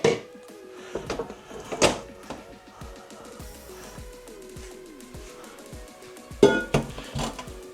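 Boiled potatoes being moved into a frying pan, with scattered clinks, knocks and scrapes of utensils against metal and crockery, irregular and close, with a louder clatter near the end.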